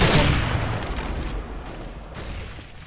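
Counter-Strike: Global Offensive matchmaking firefight: a loud opening blast followed by rapid, dense automatic gunfire that gradually fades over a few seconds, with no talking.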